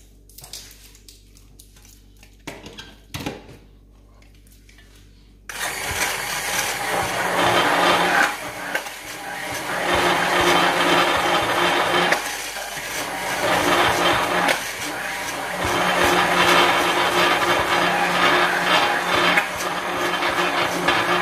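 A handheld electric mixer whirs steadily through homemade Korean whitening lotion, running loud and continuous for most of the stretch after a quieter start with a few knocks.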